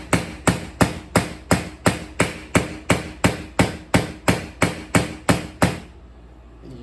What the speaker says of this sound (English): So the way to do this is hammer in the ends, then come down it.